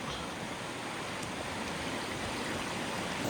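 A cold river flowing right beside an outdoor hot spring pool, heard as a steady, close rush of water that carries on evenly with no voices.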